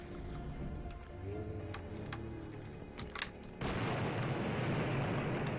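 Dynamite blasts in the Blood video game, sharp explosive cracks in the middle followed by a sudden loud wash of sustained roaring noise, with no voices.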